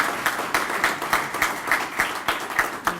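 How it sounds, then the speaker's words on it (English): Guests at a Staten Island baseball old-timers' awards brunch clap together in a fairly regular rhythm, crisp claps recurring about three times a second, close and moderately loud. "they deserve applause"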